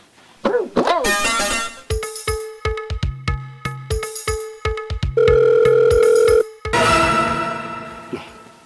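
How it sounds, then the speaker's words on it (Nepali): A phone rings on and on with no one answering, a loud electronic ringtone repeating in short tonal bursts and steadier held tones across the whole stretch, close and alone. "फोन पनि त उठाउँदैन"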